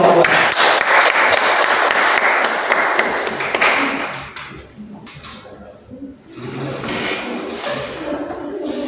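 A classroom of students applauds at the close of class project presentations, a dense, loud burst of clapping for about four seconds that then thins out and fades, with faint voices afterward.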